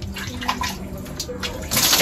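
While a child is being bathed, water is poured over the child's head and runs and splashes steadily in a tub, close and fairly loud, with a brief surge near the end.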